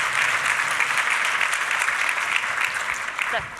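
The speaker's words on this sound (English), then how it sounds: "Pause there for the applause, right?" Audience applause at a talk, an even, sustained clatter of many hands clapping at close-to-moderate distance that fades slightly near the end, where a brief voice cuts in.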